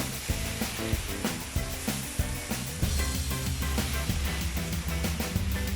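Drumstick leaves and other chutney ingredients sauté in a pan with a continuous crackling sizzle, punctuated by occasional stirring knocks, while music plays prominently alongside.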